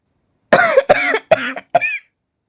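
Four harsh coughs in quick succession, close and loud, each a rough burst with short silences between, the last one weaker and wheezy.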